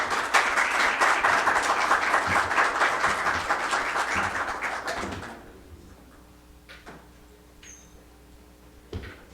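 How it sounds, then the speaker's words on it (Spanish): Warm audience applause welcoming a speaker onstage at a book launch event, loud and sustained for about five seconds before fading into quiet room noise with a few faint knocks. "Recibamos con un cálido aplauso"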